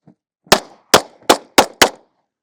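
Five loud, sharp gunshots from Hornady Backcountry Defense ammunition, fired in fast succession at a charging grizzly bear target, each a close, cracking report with a short decay and no talk.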